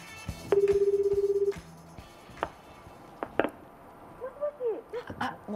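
Telephone dialing tones during a live phone call on a Japanese TV variety show: a rapid run of DTMF beeps, then a steady tone, followed by softer sounds and faint background voices.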